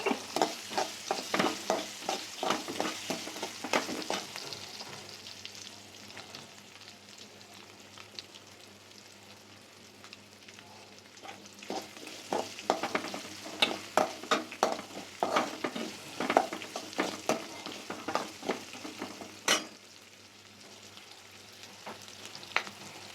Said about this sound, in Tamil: வெங்காயத்தை ஒரு பத்து வெங்காயத்தை எடுத்து நல்லா கட் பண்ணி எடுத்து வச்சுருக்கேன் நல்லா வாங்கி விட்டுலாம்